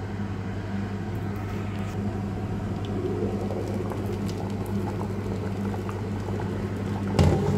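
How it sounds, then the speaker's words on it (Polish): A pot of beans boils a bit too hard, bubbling and simmering steadily, with soft gurgling and popping over a low hum and a brief clatter near the end. "Za mocno się trochę gotuje ta fasolka."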